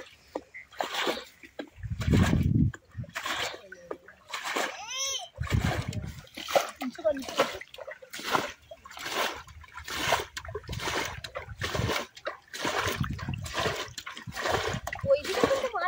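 Water splashes and sloshes in bursts while hands grope for fish in a shallow wetland pool. Repeated splashes come close up between stretches of chatter from nearby voices, including a child's.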